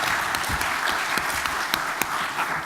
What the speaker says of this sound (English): let's have a round of applause for a great panel